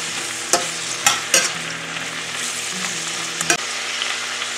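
Vegetables for breakfast hash fry and bubble in a hot pan with a continuous close sizzle, broken by a few sharp clacks of stirring, with no talk.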